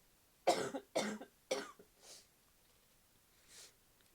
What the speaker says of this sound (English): well, apparently I'm coughing